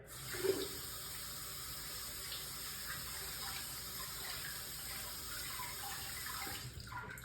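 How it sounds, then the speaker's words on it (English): Warm tap water runs steadily and close by, a continuous hiss and splash with slight changes as a washcloth is held under the stream. "Now, I just wet it with warm water or hot water."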